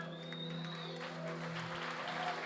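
Congregation applauding in a church during an opening conference, a steady wash of clapping from a crowd with a sustained tone underneath, even in loudness throughout.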